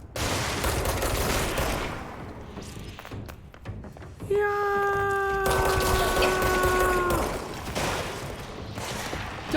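Gunfire from the video game Control, with shots and impacts bursting over dense game ambience and a steady tonal hum, loud and close for nearly ten seconds.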